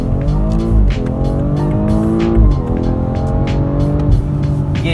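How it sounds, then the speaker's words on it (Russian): BMW X3 M40i accelerating hard from a standstill in a 0-100 km/h run, its engine loud and close, revs climbing in steps through quick gear changes with brief dips between pulls, no talking. "давайте мы сейчас отснимем динамику BMW X3 M40i"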